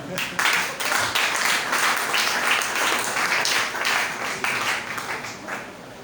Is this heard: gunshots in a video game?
no